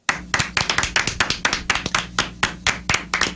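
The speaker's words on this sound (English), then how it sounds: "And a half-hearted round of applause from us, of course." Slow, half-hearted hand clapping from a few radio show hosts in a studio, close and distinct, with a loose, uneven rhythm of single claps and no talk.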